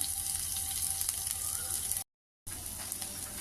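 Onion, garlic, ginger and green chili frying in oil in a pan for pointed gourd, a dense continuous sizzle cut by a brief silent gap before resuming.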